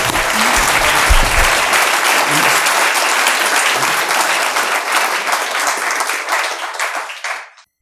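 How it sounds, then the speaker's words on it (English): Audience in a lecture hall giving a round of applause, dense continuous clapping from many people that starts full and gradually thins out before stopping abruptly. "round of applause. Thank you."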